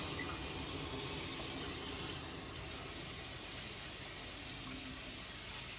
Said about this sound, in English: blast it with a little bit of hot water